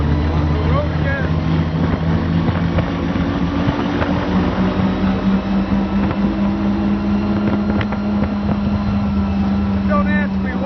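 A 1917 La Bestioni Batmobile with a 1,013-cubic-inch engine driving down the road, a loud steady low-pitched rumble with wind buffeting the microphone, and people talking over it.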